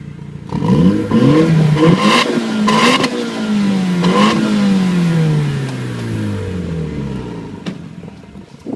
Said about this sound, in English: It's got a nice little exhaust on it, this car as well.